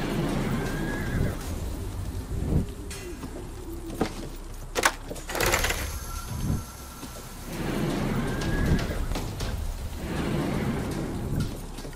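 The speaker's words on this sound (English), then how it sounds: "I'll try to calm the horse." Neighing horse and hoofbeats in the video game Grim Legends: The Forsaken Bride, at a carriage on a road. Two clear whinnies, one early and one near the end, over steady rain with rumbles of thunder and scattered hoof clops.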